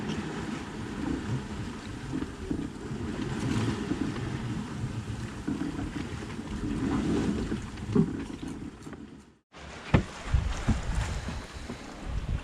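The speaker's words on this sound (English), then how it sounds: "Boat's moving along." A sailboat under light wind moves steadily through the water on a run toward Chesapeake Bay, giving a continuous rushing wash with wind noise and a brief dropout near the end.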